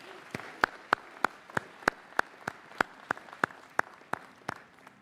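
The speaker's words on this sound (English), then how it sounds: "A round of applause for them." Applause at a university commencement ceremony: slow, evenly spaced individual claps, about a dozen in a row, crisp and fairly faint against a quiet room.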